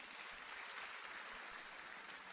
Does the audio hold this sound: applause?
yes